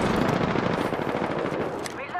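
Automatic gunfire in Apex Legends rattles in a continuous rapid burst, loud and close, filling the whole moment with fast repeated shots.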